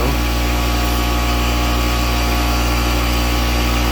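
An air compressor hooked to a sprayer's Schrader valve fitting runs nearby with a loud, constant hum and hiss that holds unchanged throughout.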